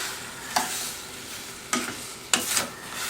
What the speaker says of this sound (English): I keep stirring all the way around